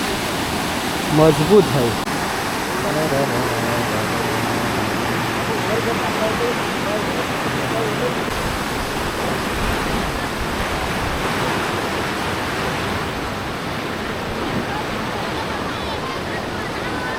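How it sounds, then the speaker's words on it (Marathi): Torrential monsoon rain and a swollen, rushing river in Konkan, heard as a steady, loud broadband roar of water that fills the whole stretch, with brief talk near the start. "तुफान पाऊस लागतोय एक नंबर"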